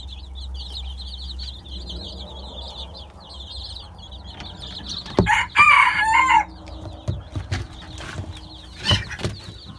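Chickens cluck and chatter around a farmyard with a newly bought silver rooster among them, a loud burst of squawking and flapping flaring up midway before the flock settles back to steady clucking.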